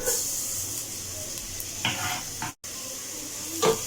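Chopped garlic fries in a few spoonfuls of cooking oil in a pot, a soft steady sizzle with occasional clinks and stirring scrapes, a brief gap, and no talking.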